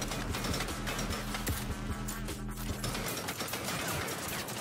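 Sniper rifle fire echoes through a building in the Saints Row reboot on PS4, with rapid repeated shots and mechanical clatter forming a dense, loud barrage that thins out near the end.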